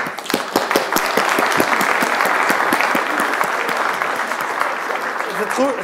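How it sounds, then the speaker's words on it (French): A lecture audience applauds the speakers at the close of a political science session on publishing in journals, with sustained dense clapping filling the room and continuing steadily throughout. "je vous propose d'applaudir très vivement les intervenants."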